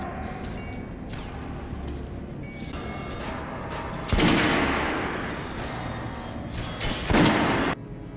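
Soldiers' gunfire in Metro Last Light Redux: sharp bursts of rifle shots and heavy booming volleys, with two loud blasts standing out above a continuous rumbling battle background.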